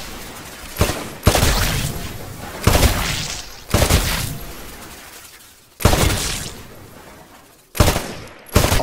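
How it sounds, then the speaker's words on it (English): Rifle shots in Titanfall as range targets are destroyed: five sharp, separate reports a second or two apart, each ringing with shattering impacts and a decaying tail. "Destroy all of the targets in the shooting range."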